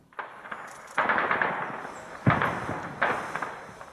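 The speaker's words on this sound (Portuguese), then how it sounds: "De longe era possível ouvir tiros e explosões" Gunfire and explosions at Donetsk airport in eastern Ukraine, heard from a distance: four separate bursts of cracking shots and booming blasts, each followed by a rolling echo, faint and far off.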